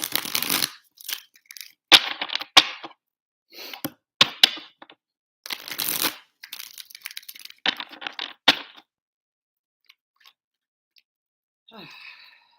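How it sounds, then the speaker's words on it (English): Tarot cards riffle and snap in quick crackling bursts, several shuffles in a row with pauses between, close and fairly loud, with no voices over them. "2 more shuffles."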